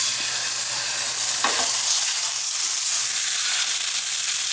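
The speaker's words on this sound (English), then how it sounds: "my skillet is heated up, so I'm going to go ahead and add my chuck roast in here" Chuck roast sears in a hot skillet, giving a steady loud sizzle with a short burst of crackle partway through.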